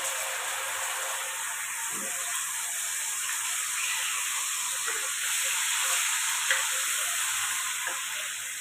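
A ginger, garlic, onion and tomato paste fries in a pan with a steady, bright sizzle and hiss throughout, loud and close, with a few faint stirring knocks and no speech.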